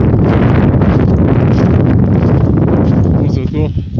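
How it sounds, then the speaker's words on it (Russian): A hurricane-force wind buffets the microphone on the mountain Chatyr-Dag in Crimea during a storm, a loud unbroken roar that eases a little near the end. "ветер сегодня, конечно, ураганный."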